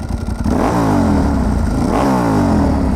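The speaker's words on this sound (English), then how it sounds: "Let's get a sound check really quick of the Testastretta Evoluzione V-twin or L-twin engine." Ducati 1098 Testastretta Evoluzione V-twin motorcycle engine revving twice, its deep throbbing rumble rising in pitch and falling back, loud and close.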